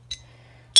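Two bright metallic clinks from a motorcycle horn disc, a short one and then a louder ringing double strike, separated by a pause over a low steady hum.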